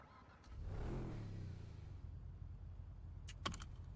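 The Adder supercar spawns in FiveM on GTA V, its engine rising into a steady idle hum, with a couple of short clicks near the end.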